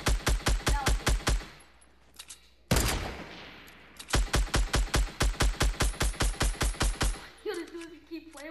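Rapid bursts of gunfire from a Fortnite match, close and loud, with repeated sharp shots in quick volleys, a brief pause, then more sustained firing, with a short exchange of game noise between bursts.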